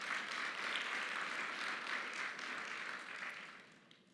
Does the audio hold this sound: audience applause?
yes